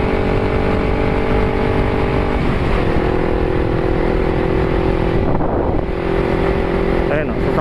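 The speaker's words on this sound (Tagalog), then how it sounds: "Ayun, sasakyan ng Philippine Marines." A Philippine Marines vehicle passes on a road near Kaybiang Tunnel, its engine a steady loud roar with wind buffeting the microphone and some speech.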